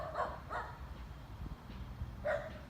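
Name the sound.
small dog barking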